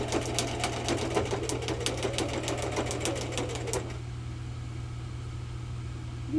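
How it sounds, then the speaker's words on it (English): A sewing machine stitches through a quilted card with a rapid, even needle clatter for about four seconds, then stops, leaving a low steady hum. "I just want to make sure it's still sewing."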